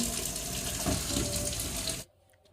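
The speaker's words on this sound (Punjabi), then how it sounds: "ਥੋੜਾ ਪਾਣੀ ਆ ਗਿਆ ਗਰਮ ਗਰਮ" Hot water gushes steadily from a kitchen tap at close range, a loud continuous splash that cuts off abruptly near the end.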